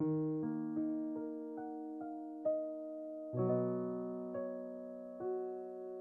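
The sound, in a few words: digital piano with touch sensitivity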